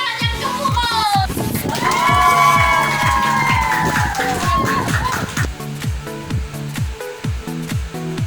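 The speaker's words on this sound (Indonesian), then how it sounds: "Berikan tepuk tangan yang gemuruh." Audience at a contestant presentation cheers and shouts loudly over a rhythmic pounding beat, voices rising in a sustained roar before settling into the steady thumping pulse.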